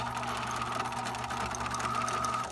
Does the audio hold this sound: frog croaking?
no